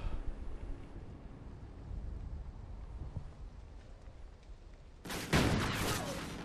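A loud burst of gunfire in a Search and Destroy round of an online shooter, cutting in suddenly near the end after several seconds of low rumbling ambience, with a sharp attack that trails off.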